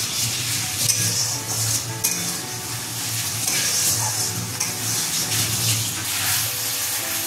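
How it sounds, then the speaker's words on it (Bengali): Spice paste with ground cumin is stirred in hot oil for a katla fish pulao. A steady close sizzle runs throughout, with rhythmic scraping strokes of the spoon, and no voices. "মশলাটা নাড়তে থাকবো"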